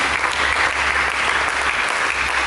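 A church congregation applauds during a sermon, a dense, steady wash of many hands clapping at once, loud and continuous with no voices standing out.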